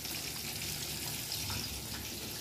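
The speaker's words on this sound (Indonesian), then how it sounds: "Nih goreng tahu" Tofu frying in hot oil gives a steady, dense sizzling hiss that runs unbroken throughout, with no talking.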